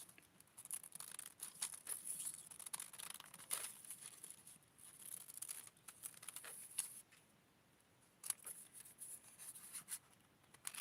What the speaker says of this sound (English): And now we're going to cut the pattern.